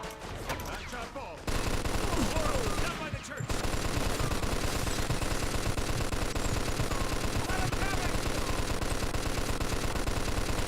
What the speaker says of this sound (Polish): Biorę MG42.